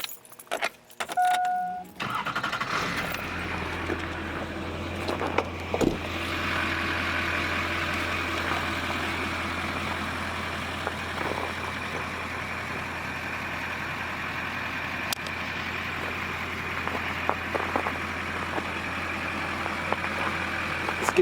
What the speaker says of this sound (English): go ahead and start it up.